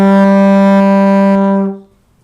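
A trombone holds a steady, loud D in fourth slide position for nearly two seconds, a rich brassy tone that ends cleanly, with no talking.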